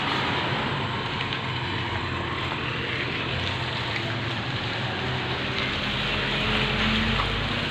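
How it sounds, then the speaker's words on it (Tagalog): Heavy rain pours steadily in Montalban, Rizal, a dense, loud, unbroken hiss of water with a low rumble underneath, sounding like downpour on surfaces or a vehicle. "lakas ang ulan ah"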